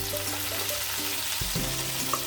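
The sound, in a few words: spices sizzling with fried cauliflower in pan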